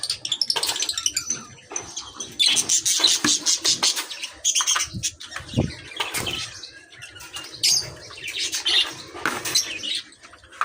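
Pet birds flap and flutter their wings in a close burst of activity while being fed by hand, with scattered chirps and squawks mixed into the rustling wingbeats throughout.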